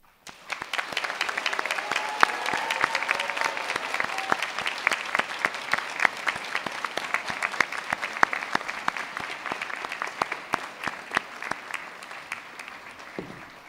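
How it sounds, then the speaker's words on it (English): Graduation audience in a hall applauding steadily, dense sustained clapping from many hands with occasional sharper claps, filling the room and fading at the very end. "Now, please give a round of applause and make some noise for all of those people"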